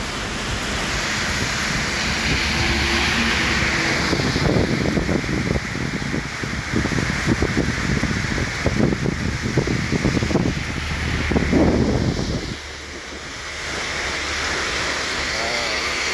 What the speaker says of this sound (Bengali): বাতাস হচ্ছে অনেক, জানি না ভয়েস কেমন হচ্ছে।